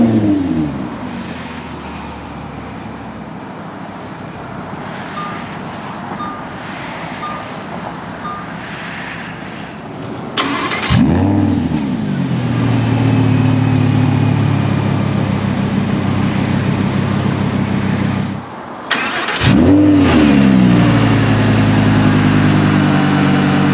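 A 2016 Lamborghini Huracán Spyder LP610-4 fires up with a sharp, loud burst, then holds a deep idle before a second bark of revving, heard close and without talk.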